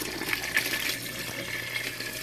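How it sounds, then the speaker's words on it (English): Water pours steadily from a container into a pot of simmering oxtail soup, a continuous splashing gush heard close up and alone throughout. "the water has reduced, so I'm going to add some more water."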